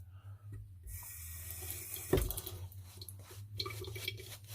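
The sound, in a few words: water running from a tap into a sink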